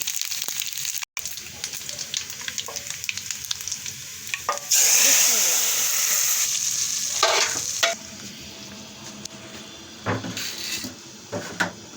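Cumin seeds sizzling in hot oil for dal, a steady bright frying hiss that swells partway through, with stirring clatter and brief knocks close by.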